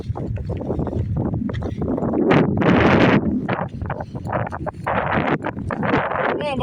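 Strong wind buffets a microphone outdoors on a walk, a loud, gusty low rumble with rustling that rises and falls throughout, with no clear speech.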